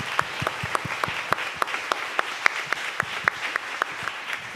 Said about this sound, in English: Yeah, please give them a round of applause.